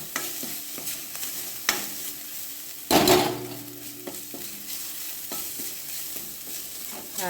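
Ginger and green chilli sautéing in oil over a low flame, giving a gentle continuous sizzle with occasional spoon scrapes and one louder clatter of metal against the pan.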